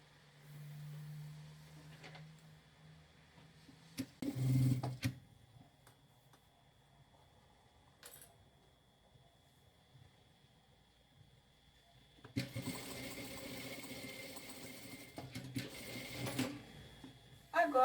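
A sewing machine stitching towel fabric with a backstitch runs in short rattling bursts, first briefly, then in a longer steady run near the end, with quiet handling gaps between them and no talking.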